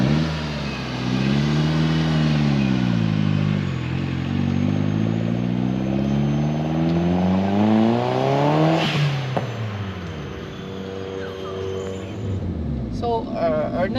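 A JDM Mitsubishi Colt Ralliart Version-R drives off, its engine rising and shifting through gears with steady revving from inside the cabin, moderately loud and continuous, with a brief clatter near the end.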